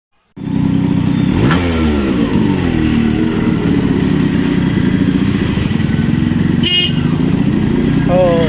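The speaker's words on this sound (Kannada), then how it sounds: "ನಾವಿವತ್ತು ಓಡಿಸ್ತಿರೋದು RX 135 4 ಸ್ಪೀಡ್." A Yamaha RX 135 two-stroke, four-speed motorcycle runs close by, a loud, continuous buzzing engine note with rising revs that starts abruptly after a brief silence, with a person talking over it.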